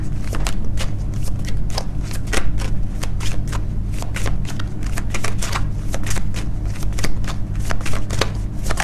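An angel card deck is shuffled close up, a continuous run of quick papery riffles and flicks lasting several seconds with no talking.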